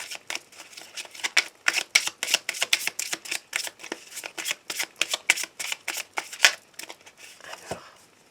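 Cards are shuffled for a tarot reading in a quick run of sharp, close flicks in a fairly even rhythm, about twenty crisp snaps in eight seconds, with no voices.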